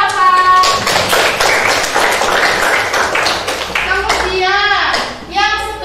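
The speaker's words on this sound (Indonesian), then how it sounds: "Ya, tepuk tangan buat Mas Jafar." Quick rapid hand clapping from a small group, loud and close, with a voice speaking near the end.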